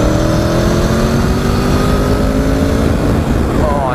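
An Aprilia Tuono motorcycle accelerates hard past a car on the road, its engine roaring loud and close with a steadily rising pitch, mixed with strong wind rush over about four seconds.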